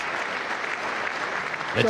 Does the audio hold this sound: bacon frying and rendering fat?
no